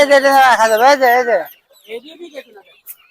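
Chickens at a bird market: a loud, drawn-out call from a nearby hen, followed by softer, scattered clucks after a short pause.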